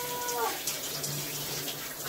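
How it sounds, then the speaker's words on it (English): A shower runs indoors as a faint, steady watery hiss that carries on without change for a couple of seconds. "The water's warming up."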